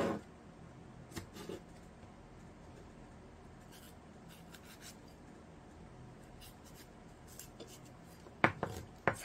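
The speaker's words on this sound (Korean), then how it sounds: "고추는 여기를 4등분 해줍니다" A knife cuts a chilli pepper into quarters on a board. The quiet scraping is faint, and a few sharper taps come near the end.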